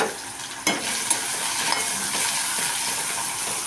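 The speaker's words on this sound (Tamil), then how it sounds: "எண்ணெய் ஊற்றி வெங்காயத்தை போட்டுக்கணும்" Onions hit hot oil with a sudden loud crackle that settles into a dense, steady sizzle, close and continuous, with a couple of faint utensil taps and no speech.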